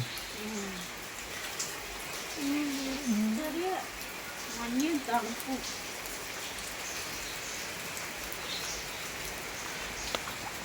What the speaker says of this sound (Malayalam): ചാറ്റ മഴയല്ലേ